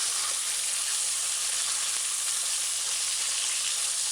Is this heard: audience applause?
no